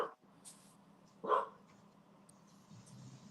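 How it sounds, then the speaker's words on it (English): A single dog bark rings out indoors, a sharp burst in the middle of an otherwise quiet room with faint background noise and no talking. "Was that the dog?"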